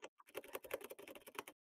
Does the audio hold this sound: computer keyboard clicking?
yes